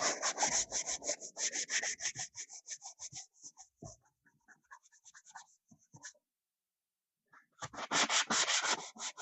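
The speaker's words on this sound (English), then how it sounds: "So I'm just gonna sand off that wood filler we put in the other day." Sanding wood filler off a van's interior wall: close rhythmic scratchy strokes in a fast burst, then sparse scrapes fading to a silent pause, and a second brisk burst of sanding at the end.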